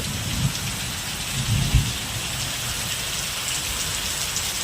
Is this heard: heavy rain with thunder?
yes